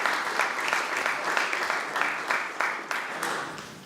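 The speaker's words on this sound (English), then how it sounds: "Fantastic, round of applause." An audience at a lecture on Lucretius breaks into applause after a reading in Greek, a rhythmic, pulsing round of clapping at moderate loudness that slowly tapers.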